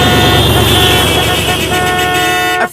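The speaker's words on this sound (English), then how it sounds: "everyone was honking at us" Car horns honk at a slow-moving car on a road trip, a sustained blaring tone layered over engine rumble and traffic noise, loud and close before cutting off abruptly at the end.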